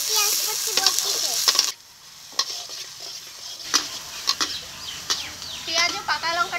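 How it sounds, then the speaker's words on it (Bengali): Chopped ripe chilli and onion fry in a pan with a bright sizzle. Scraping stirs break in irregularly, a short pause interrupts the frying, and a voice speaks over it. "দিয়েছি লঙ্কা কুচি, পাকা লঙ্কা কুচি ও পেঁয়াজ কুচি একটু ভেজে নেব"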